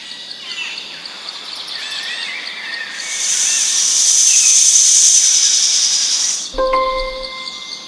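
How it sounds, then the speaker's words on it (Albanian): A snake gives a long, sharp hiss that swells and fades over several seconds, with faint bird chirps in the background. "Çfarë tingulli bën gjarpri?"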